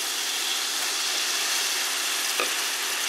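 A pan sauce with browned bits from meatballs cooking down, a steady, even sizzle and hiss of bubbling liquid throughout, close and constant, with one brief soft clink.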